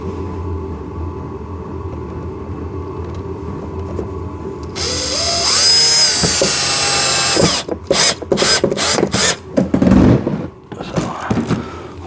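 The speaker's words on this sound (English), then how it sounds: "So first things first, we're going to put a screw into that one." A power drill drives a screw into a two-seater 4X4 ride-on car for kids, giving a loud whirring burst with a rising pitch, followed by short ratcheting bursts and clicks, with brief speech.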